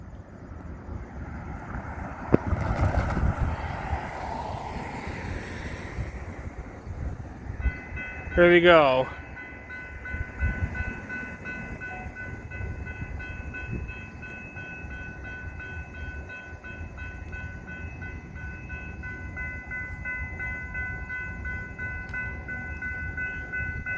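A CPKC eastbound freight train approaches a crossing and rumbles steadily past with wind buffeting the microphone; a short horn blast sounds partway through and a voice speaks briefly.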